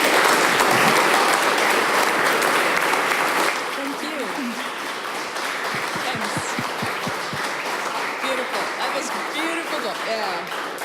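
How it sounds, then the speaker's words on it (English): An audience applauds after a science talk on the world's biggest lasers, dense sustained clapping filling the hall, thinning slightly midway as a voice begins speaking over it. "Well-deserved applause."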